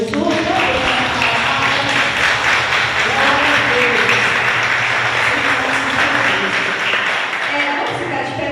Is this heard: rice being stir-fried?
no